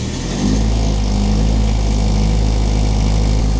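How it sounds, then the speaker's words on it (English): A Perkins 14kVA single-phase generator engine cranks and catches on a cold day, then settles into a loud, steady, close running drone with a low hum. "The generator will do a preheat before it starts the engine."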